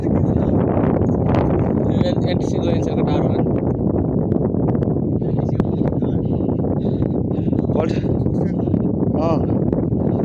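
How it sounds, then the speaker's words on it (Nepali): Strong wind on a hilltop roars and buffets the microphone continuously, with a person talking intermittently over the rushing noise. "कस्तो हावा चलिरहेको कि"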